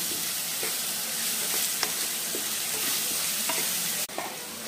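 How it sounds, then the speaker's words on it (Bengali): Salt being stirred into a palak paneer mixture in a pan, with a steady sizzle and scattered scraping clicks of the spoon, close and continuous, and a short break near the end. "লবণটাও ভালো করে মিশিয়ে নেব আমি।"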